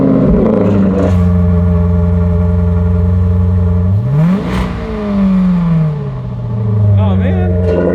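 A Maserati MC with an Urutu X-pipe exhaust cold-starts loudly up close: a sharp cranking catch, a steady high idle, then a rising and falling rev flare around the middle before settling, with voices talking over it.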